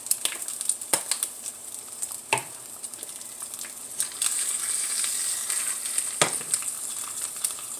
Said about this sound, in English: I have my egg frying in the pan